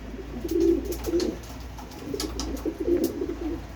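Soft, repeated cooing of pigeons or doves on an evening balcony, a few low throaty phrases close by, with faint higher chirps and light background noise.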